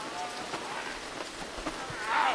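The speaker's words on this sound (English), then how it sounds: "It's raining, boys." Steady rain hisses across the whole moment in the horror game Devour, a dense even patter that swells slightly louder near the end, with no voices over it.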